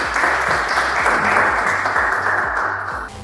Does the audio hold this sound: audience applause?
yes